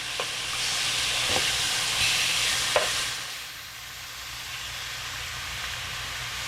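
Pork chops sizzle and brown in a frying pan, a steady hiss running throughout with a few clinks from a utensil near the middle, easing slightly toward the end.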